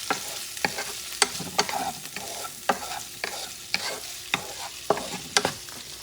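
Shrimp dip ingredients being stirred together in a bowl, with a dozen or so sharp, irregular scraping clacks of a utensil against the bowl, close and clear, and no talking.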